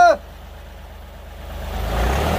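A Mahindra Bolero BS6 diesel engine idles with a steady low rumble just after a brief starter whine, the pulsing drone rising slightly near the end.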